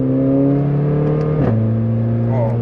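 A Mercedes A45 AMG with modified KW Clubsport suspension, heard on a road test, holds a loud, close engine drone that climbs steadily, then drops sharply in pitch as the revs fall, like a gear change, before building again.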